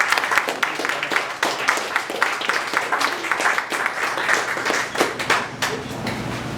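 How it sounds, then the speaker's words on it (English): Audience applause at a winery performance, steady dense clapping from a small crowd, sustained at an even level with some voices underneath. "a round of applause."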